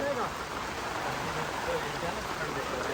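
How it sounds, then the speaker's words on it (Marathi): Heavy rain pours down in a dense, constant hiss that fills the whole moment, loud and close, with faint voices murmuring underneath. "लय जोरात पाऊस आला."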